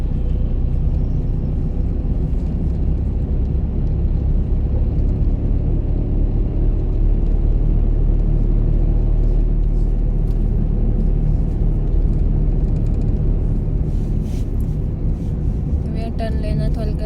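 A car engine revs steadily during a driving lesson on an uphill road, a continuous low rumble held for many seconds with an instructor and learner speaking over it.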